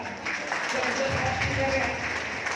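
Applause from an audience at a talk fills the room in a steady, dense patter, heard under a voice.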